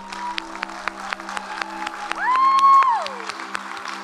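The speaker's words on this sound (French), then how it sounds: "Allez, sous une pluie d'applaudissements" Applause from an audience at a welcome event for newcomers to the region, moderate clapping with sharp individual claps, plus a loud rising and falling tonal whistle or tone in the middle.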